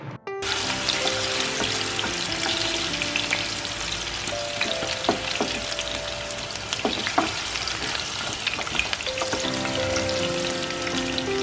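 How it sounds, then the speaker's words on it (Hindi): Potato slices fry in mustard oil, a dense continuous crackling sizzle with scattered pops and bubbling that holds steady and fairly loud throughout, with no speech. "I'll fry these potato slices golden brown in mustard oil."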